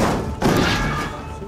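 In a war film, a tank shell explodes in a town: a heavy dull boom with a broad thud that then rolls on as a dense, sustained rumble.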